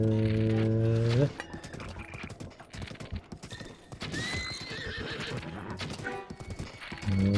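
Horses in Zelda: Breath of the Wild give a loud, drawn-out neigh at the start, then hooves clip-clop steadily amid game noise before a second whinny rises at the end.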